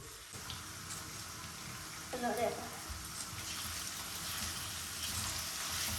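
Garlic and chili fry in a pan in a home kitchen with a soft, steady sizzle. A brief clatter sounds partway through, and muffled voices are faintly audible in the background.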